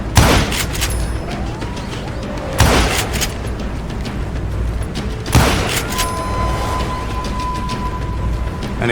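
Gunfire in the Western shooter Call of Juarez Gunslinger, with two heavy booming shots standing out above a dense, continuous clatter of battle noise and a sustained tone.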